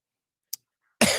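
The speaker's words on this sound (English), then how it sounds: "I'm gonna be coughing a lot" A single short cough, then a louder burst of coughing or throat noise at the end, close by with silence between.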